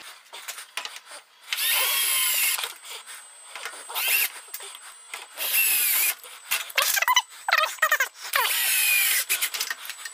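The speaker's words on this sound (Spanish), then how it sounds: "vamos a colocarle unos tornillos con punta de broca." A power drill drives self-drilling screws into wood in several whining bursts of a few seconds each, loud and close, with short pauses and a few stuttering pulses near the end.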